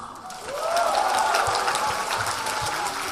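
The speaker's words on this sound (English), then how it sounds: "Where is your applause?" Audience applause at an education forum event, steady crowd clapping swelling after a quiet start and holding at a moderate level, with a faint tonal sound running through it.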